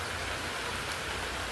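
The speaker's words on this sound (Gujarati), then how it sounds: "અને બધી કોરા જો વરસાદ મસ્ત પડે" Steady morning rain pours down outdoors in a dense, even hiss with no breaks or voices.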